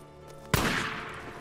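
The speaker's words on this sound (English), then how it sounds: "I dare you to try to shoot me again, you sniper" A sniper's rifle shot in the video game Days Gone: one loud, sharp crack halfway through with a ringing tail, heard over a low steady game background.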